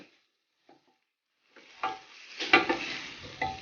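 Prawns hitting a hot pan of garlic butter after a brief quiet pause, then a loud close sizzle that swells and crackles with quick stirring scrapes.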